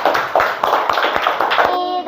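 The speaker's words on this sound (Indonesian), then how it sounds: "Tepuk tangan buat kelompok 1." Classroom clapping for a student group, a short burst of close hand claps with quick irregular beats, a voice faintly audible near the end.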